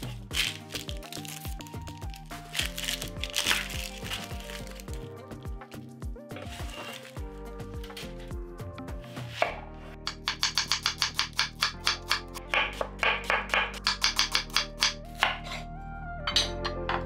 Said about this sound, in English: 1 red onion. Peel and thinly slice.